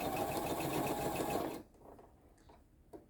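A sewing machine runs a long seam on a crazy quilt block, its steady, loud whirring motor lasting about a second and a half before stopping abruptly into quiet room sound.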